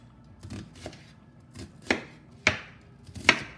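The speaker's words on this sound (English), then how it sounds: "I want to do my onion chopped, not sliced." A knife chops an onion on a cutting board in a home kitchen, with about six crisp, evenly spaced strokes, close and clear, and no talk over them.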